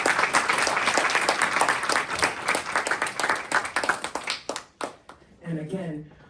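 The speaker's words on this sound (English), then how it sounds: "round of applause for these gentlemen" An audience gives a loud round of applause at a live event, dense clapping that thins out and fades toward the end as a voice begins speaking.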